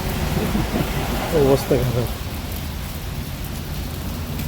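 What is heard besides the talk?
heavy rain with thunder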